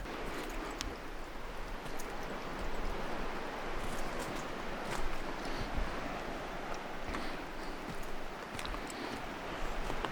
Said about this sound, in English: I don't know if you could hear the lovely waters burbling in the background